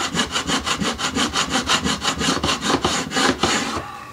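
A metal file rasps back and forth in a guitar fret slot during fret replacement, about twenty even, close strokes in a steady rhythm, with no talking.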